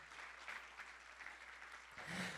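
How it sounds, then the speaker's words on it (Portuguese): Worshippers in a church give a round of applause during a service, a soft, distant patter of clapping that swells slightly near the end. "dê uma salva de palmas ao Senhor"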